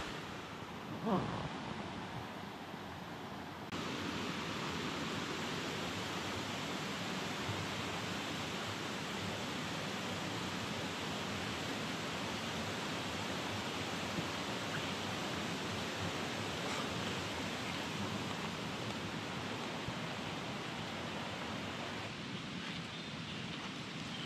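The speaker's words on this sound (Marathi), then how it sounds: "आणि वाळाचं पाणी बघा" Stream water in a Konkan village rushing steadily, a dense broadband roar that holds constant and close throughout, with a brief bump near the start.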